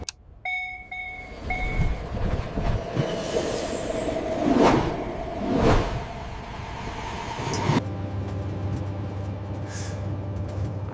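A train runs along the rails on a family trip in Switzerland, a steady rumbling ride with clattering wheels, a couple of brief swelling whooshes midway and a low droning hum settling in toward the end.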